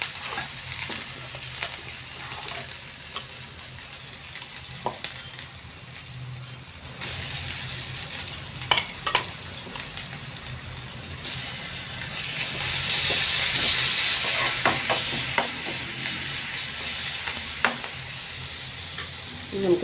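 Urad dal and green chillies frying in a pan for a thoran, a steady sizzle and hiss with scattered stirring clicks, getting louder in the later part and heard alone without talk.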